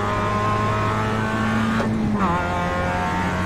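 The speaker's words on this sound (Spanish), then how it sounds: "Qué guapo como suena el coche" A race car engine in the iRacing video game holds a steady high-pitched drone, then the revs drop with a gear change and climb again, loud and continuous, with someone talking faintly underneath.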